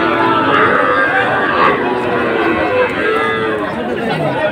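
Cattle low loudly and repeatedly at a busy calf market where small bullocks and heifer calves are traded, with overlapping moos over a murmur of people talking nearby.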